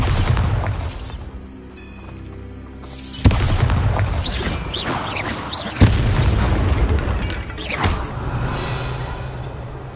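Bombarda spell explosions in the video game Hogwarts Legacy, two sharp booming blasts over a continuous rumbling game soundscape with whooshes and low bass, loud and close, no talk.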